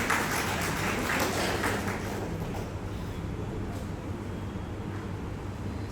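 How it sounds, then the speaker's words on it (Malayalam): An audience claps at a Mandya Diocese Mathruvedi general body meeting, a dense wash of applause that is loudest at first and then settles into a steady, softer patter. "നല്ലൊരു കൈയടി."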